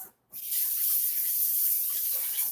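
Kitchen tap running to rinse off a dish while baking bread pudding: a brief pause, then a steady, close rushing stream of water splashing and hissing without a break.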